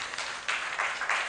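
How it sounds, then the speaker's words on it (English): An audience claps at a film festival panel session, a short burst of applause that swells in loose waves over about a second, fairly close and steady with no voices over it. "Please, can we give a round of applause?"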